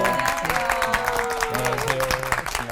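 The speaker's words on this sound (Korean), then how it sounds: "큰 박수로 환영해주세요." A studio audience at a Christian TV lecture programme claps steadily to welcome three pastors onto the stage, with tonal music sounding underneath the applause.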